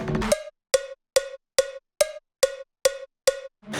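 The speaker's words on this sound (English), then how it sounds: "4/4 sounds like this." Eight evenly spaced clicks, like a metronome or cowbell, keep a steady 4/4 beat after a brief burst of sound at the start.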